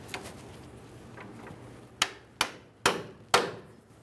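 Hammer blows strike a drag link joint on a 1994-2001 Dodge Ram 1500 to knock the part free: four sharp metallic whacks in an uneven rhythm after a quieter start, close and distinct with no talk.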